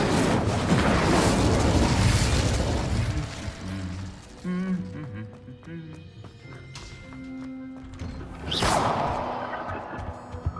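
Incendio fire spell cast in Hogwarts Legacy, a roaring fiery burst at the start that fades into quieter game sounds, followed by another sharp whooshing flare near the end, with a voice speaking briefly in between.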